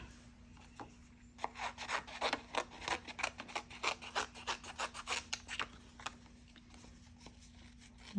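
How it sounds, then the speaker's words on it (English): Scissors snip steadily through paper pieces in a loose fussy cut, a quiet, close series of rapid rhythmic crunching cuts over a low constant hum. "I'm gonna cut these out."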